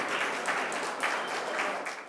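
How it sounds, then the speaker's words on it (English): Applause from a ceremony audience marking the 50th anniversary of SUNY Downstate's health professions, nursing and graduate schools: steady, dense clapping from a large crowd, sustained throughout with slight swells and no talking. "Round of applause, please."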